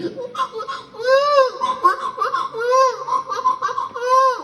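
Someone imitates a neighbour's baby crying with repeated wailing bursts in an uneven rhythm, loud and close, sounding partly like laughter.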